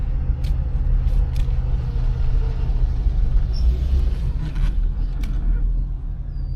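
A truck passes nearby on the road, heard from inside a 1986 Pontiac Parisienne as a heavy low rumble with a few short hissing bursts, fairly loud and steady before easing slightly.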